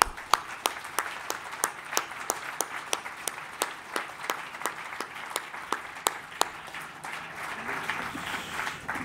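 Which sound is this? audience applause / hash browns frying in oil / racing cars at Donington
audience applause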